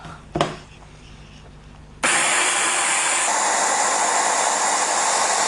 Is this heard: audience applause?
no